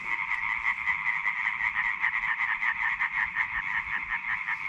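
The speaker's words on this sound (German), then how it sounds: "Ah, ist ja Wahnsinn, diese scheiß Frösche." A dense chorus of frogs croaks steadily through the night on an island, loud and continuous with a pulsing rhythm and no voices over it.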